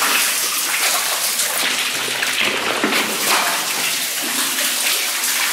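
Steady rushing water in a gold mine fills the space with a broad, hissing roar and a hollow, reverberant quality, continuous and loud throughout.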